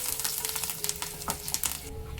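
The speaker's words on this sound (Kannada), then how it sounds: "ಸ್ವಲ್ಪ ಸಾಸಿವೆ ಹಾಕೊಳ್ಳೋಣ ಸ್ವಲ್ಪ ಜೀರಿಗೆ ಹಾಕೊಳ್ಳೋಣ ಸ್ವಲ್ಪ ಕರಿಬೇವು ಸೊಪ್ಪು ಹಾಕೊಳ್ಳೋಣ ಇದನ್ನೇ ಚೆನ್ನಾಗಿ ಚಟಾಪಟ ಅನ್ಬೇಕು" Mustard seeds, cumin and curry leaves crackle in hot oil, a dense sizzle punctuated by rapid, irregular pops and spits, close and fairly loud throughout.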